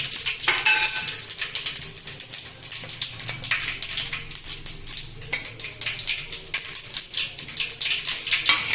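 Onion and fennel seeds stirred into hot oil with spluttered mustard seeds in a pan for fish gravy, heard as dense crackling spatter with frequent metallic clinks and scrapes of the spoon against the pan, close and busy throughout.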